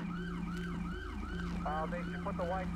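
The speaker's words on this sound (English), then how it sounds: "Okay, we do have an ambulance coming." An ambulance siren wails in the GTA V LSPDFR police game. A steady rising and falling yelp is followed by a faster warble over a constant low engine drone. It sounds fairly close and fills the whole stretch with no talking.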